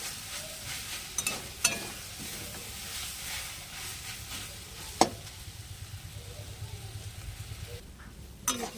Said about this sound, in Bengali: জলটা কমে গেছে, জলটা এবার ভালোভাবে ভেজে নেব